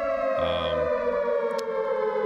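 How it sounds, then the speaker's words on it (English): Air raid sirens drone continuously at a steady pitch, a loud sustained wail filling the whole stretch with a brief extra tone near the start. "So you hear the air raid sirens."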